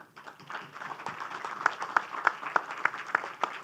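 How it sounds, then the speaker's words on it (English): Moderate applause from a literature festival audience in a Thane auditorium, with several distinct claps standing out in a fairly regular rhythm over a softer bed of clapping. "loud applause."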